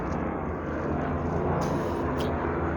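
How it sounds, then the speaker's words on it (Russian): Helicopters flying near the Moscow ring road on a cold winter day make a loud, continuous low droning hum that holds steady throughout. "Вертолеты летают."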